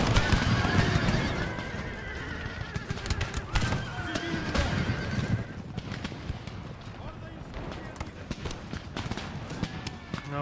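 Horses whinnying amid dense galloping hooves in the strategy game Empire: Total War, repeated neighs over a constant rumble of clip-clop and battle noise, with someone talking over it.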